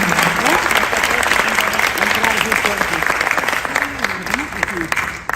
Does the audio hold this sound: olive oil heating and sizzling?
no